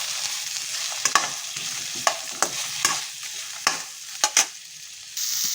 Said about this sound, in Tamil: தக்காளி, பூண்டு, தேங்காய் எல்லாத்தையும் போட்டு நல்லா வதக்கி விட்டுக்கோங்க.